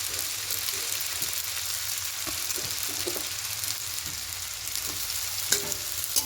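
Semolina chow mein is stir-fried with vegetables in a pan, a steady close sizzle running throughout with occasional scraping stirs and clinks of a utensil.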